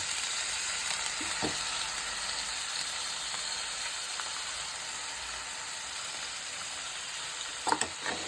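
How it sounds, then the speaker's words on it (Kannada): Washed amaranth greens hit a hot oil tempering and give a soft, steady sizzle and hiss for North Karnataka style palya, with a couple of faint clinks of a utensil near the end and no talking. "ಪಲ್ಯನ ತೊಳೆದು ಜಾನ್ಸಕ್ಕಿಟ್ಟಿದ್ದಲ್ವ ಅದನ್ನು ಈ ಒಗ್ಗರಣೆಗೆ ಹಾಕೋಬೇಕು"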